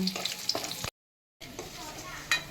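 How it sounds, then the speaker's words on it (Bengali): Sun-dried lentil badi fry in mustard oil with a close crackling sizzle and occasional stirring clinks, broken by a short stretch of complete silence before the frying resumes. "এবার আমি বড়িগুলো, কতগুলো বড়ি এগুলো ভেজে তুলে নেব, ভালো করে লাল লাল করে ভাজবো।"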